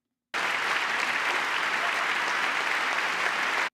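A crowd bursts into loud, dense applause that holds at an even level for a few seconds before cutting off abruptly.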